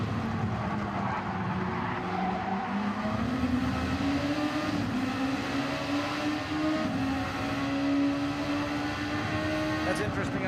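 Honda GR.2 race cars battle at Red Bull Ring in Gran Turismo 7, engines droning and climbing in pitch with occasional tire squeal, steady and fairly loud under faint commentary.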